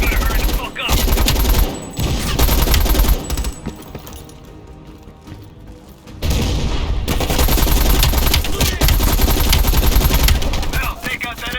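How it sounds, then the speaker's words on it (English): Heavy machine gun fire in the Black Ops Cold War campaign, loud sustained bursts of rapid shots with a quieter gap in the middle, mixed with battle noise and some voices. "Heavy MG on the ridge."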